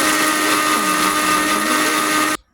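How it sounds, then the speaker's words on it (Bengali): Kitchen blender whirring steadily as it purées mint leaves, coriander leaves, green chillies and mustard, a loud continuous motor whine that cuts off abruptly at the end. "ভালোভাবে ব্লেন্ড করে নিচ্ছি।"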